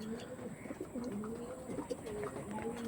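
Tournament-quality pigeons, blue-barred birds, coo softly in low, rolling calls that overlap through a constant murmur of the flock nearby.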